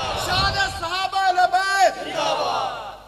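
A crowd at a Rabi ul Awwal religious gathering roars back in unison after a Nara-e-Takbeer call, a loud sustained chant of massed voices that swells and fades over about three seconds.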